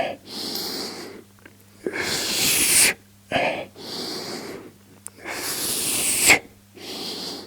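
Repeated deep breaths during a Pilates abdominal exercise, with long forceful exhales and sharper inhales alternating in a slow rhythm, close and fairly loud over a faint steady hum.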